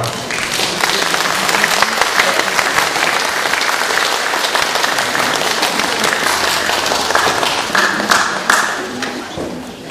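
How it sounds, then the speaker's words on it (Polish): Audience applause for a poetry recital in Kolno, dense steady clapping from a crowd filling the whole span, loud and continuous before tapering slightly at the end. "Wielkie brawo."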